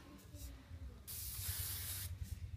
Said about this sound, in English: I will spray the front of it.